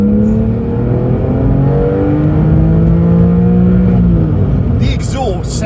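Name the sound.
Porsche 911 sports exhaust engine note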